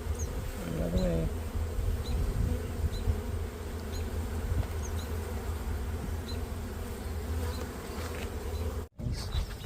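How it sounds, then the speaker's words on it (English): Italian honey bees buzzing in a constant, close droning hum, with a brief higher whine early on and a short dropout near the end. "You said these are Italian bees?"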